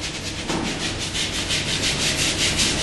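A scrub brush works steadily over hands and skin during a surgical scrub, giving a close, continuous rhythmic rasp of repeated strokes with no talking.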